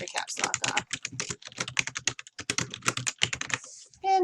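Data is typed on a computer keyboard in rapid, close, clicking keystrokes with brief irregular pauses, ending in a short separate sound.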